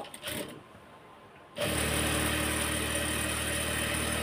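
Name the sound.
sewing machine stitching a salwar seam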